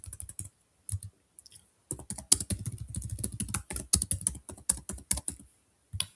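Quick bursts of keystrokes on a computer keyboard, clustered clicks with short pauses between, close and clear with no talking.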